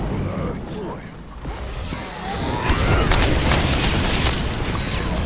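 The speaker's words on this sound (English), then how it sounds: "You see, I did the fireball and I got him." A fireball explosion from Snapdragon in the video game Plants vs. Zombies: Battle for Neighborville, a low boom that swells midway into a sustained crackling, rumbling blast over busy game noise.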